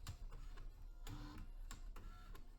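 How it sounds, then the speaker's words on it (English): The World's Smallest Printer prints for the first time, with a faint, close mechanical buzz and a rhythmic run of short ticking strokes repeating about every half second. "Well, I think it's printing now."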